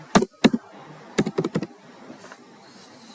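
Several crisp keyboard keystrokes typing into a Windows Run box, two separate taps followed by a quick burst of four or five keys, then quiet room noise.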